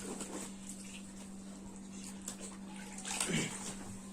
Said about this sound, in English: My little mama having a shower.